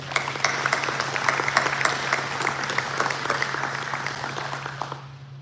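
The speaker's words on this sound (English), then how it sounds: "Let's give yourselves a round of applause." Guests at an Air Force retirement ceremony clap together in a sustained round of applause over a low steady hum, loud and dense at first, then fading out toward the close.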